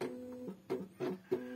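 An Epson inkjet printer's scanner unit shifts inside the machine, a series of short whirring motor bursts with clicks between them, close and fairly quiet.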